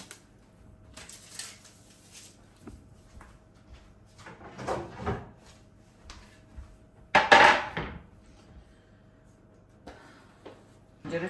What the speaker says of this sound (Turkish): Şuraya tencereyi çıkartacağım.